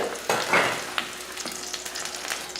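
Okra frying in a pan makes a soft, continuous sizzle, broken by a few sharp scrapes and taps of stirring, fairly quiet and with no voices.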